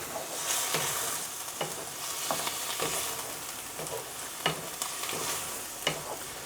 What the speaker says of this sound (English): it should go into a nice sizzle straight away instead of kind of stewing